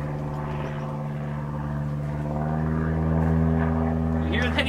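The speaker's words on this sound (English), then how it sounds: "complain about that airplane noise" A steady propeller aircraft drone fills the clip, loud and overhead, with a low droning hum that swells slightly toward the end.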